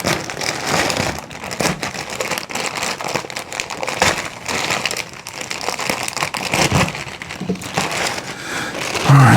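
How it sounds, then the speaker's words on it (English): A blade cuts through the plastic wrapping of a mailed package of knives and paracord gear, giving close, irregular crinkling, crackling and tearing bursts with short pauses between them. "Oh, we're gonna have to cut through."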